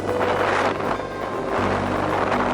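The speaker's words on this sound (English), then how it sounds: "wind has suddenly whipped up" Strong wind gusts outdoors near Buttermere, Scale Force and Crummock Water, roaring steadily and loudly across the microphone with no letup.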